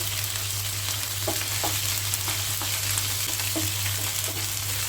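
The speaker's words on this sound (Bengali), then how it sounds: "এখানে 1 চামচ পরিমাণ রসুন, জিরা আর পেঁয়াজ বাটা দিয়ে দিলাম। তেলের সাথে ভাজবো।" Garlic, cumin and onion paste frying in oil with cumin and nigella seeds for an ash gourd bhaji, giving a steady close sizzle under a low hum, with a few soft stirring scrapes.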